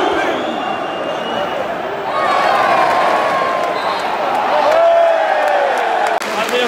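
A large crowd at a Leeds vs Liverpool football match applauds and cheers in a broad, steady roar that swells midway, with a commentator talking over it.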